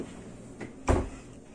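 A kitchen drawer slides open close by with a soft rumble and one dull thud. A faint earlier knock comes before it, with no talking.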